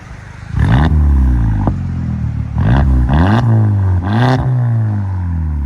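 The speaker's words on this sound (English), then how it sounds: "I think it's got a rev limiter on it too, so we can't rev it too high." A straight-piped 2016 VW CC 2.0L turbo is revved in three quick, loud blips from a rumbling idle, each one dropping back with crackles and pops; close up and with no voices.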